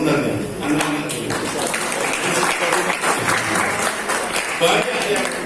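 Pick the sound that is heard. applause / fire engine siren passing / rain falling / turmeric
applause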